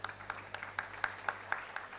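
At a Rotary gathering, a faint, even run of claps taps out about four beats per second for two seconds, distant and thin rather than a full crowd.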